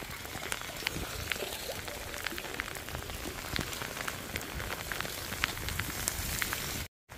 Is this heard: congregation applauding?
no